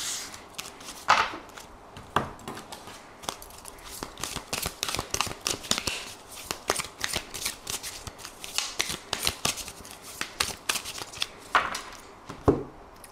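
Tarot cards shuffled by hand in a steady run of crisp, papery riffles and taps, close and dry, alone without speech, with a few sharper snaps along the way.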